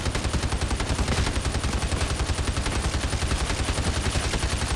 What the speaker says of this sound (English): You are a shotgun. You are a continuous shotgun.